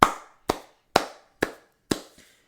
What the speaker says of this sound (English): I just want to give myself and everyone else a big round of applause